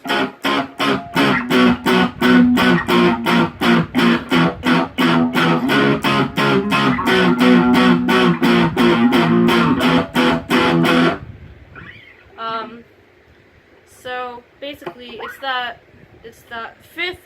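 A heavily distorted electric guitar chugs a fast, steady rhythm part in repeated chords for about eleven seconds, then stops, leaving brief squeaky, scratchy sounds.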